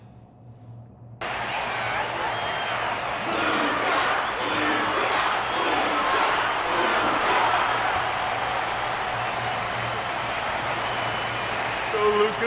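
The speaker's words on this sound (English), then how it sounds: "Their constant applause is a salute to this resilient Belabogian fighter." A crowd of spectators in Honkai: Star Rail applauds and cheers steadily after a fight, a dense continuous roar of clapping and voices that starts abruptly and holds loud to the end.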